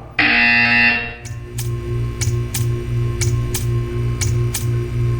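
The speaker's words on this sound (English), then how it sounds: "When you hear the buzzer, stare at the art." A repeated electronic buzzer from the video game Portal 2 sounds in a steady pulsing rhythm, about eight short bursts after a loud opening tone, over a constant low hum.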